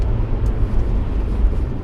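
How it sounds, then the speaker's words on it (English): Steady low engine rumble inside a car, picked up by a dash-mounted camera, a continuous close drone with no voices. "It really picks up the engine noise"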